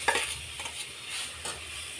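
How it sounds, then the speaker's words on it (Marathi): Grated raw mango is stirred in a hot kadhai, with a few scraping strokes and a light sizzle at close range and no voices. "हा कैरीचा किस कढईमध्ये आपण टाकून घेणार आहोत"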